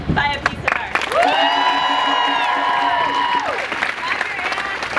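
An arts advocacy day crowd claps and cheers loudly throughout, with whoops and shouts over a steady wash of applause, and a sustained held tone rising over the noise midway.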